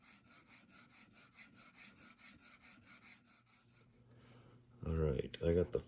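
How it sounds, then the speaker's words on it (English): A cape chisel edge is sharpened by rubbing it back and forth, producing a quiet, regular rasping stroke rhythm of about a dozen passes, followed by louder knocking handling noises at the end. "just run this back and forth and sharpen that edge and maintain that little upsweep"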